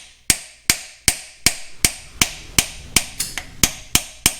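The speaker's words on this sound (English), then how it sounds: "Sometimes a slight tap on the spreader chisel" A hammer taps a spreader chisel on a Farmall tractor brake pedal shaft in a run of about eleven sharp metallic strikes, evenly spaced and close, with no voices.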